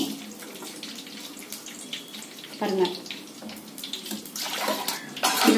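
Water poured from a mixer jar into ground paste for a drumstick-leaf kuzhambu, a splashing, gurgling pour that swells in bursts, heard under a voice speaking Tamil.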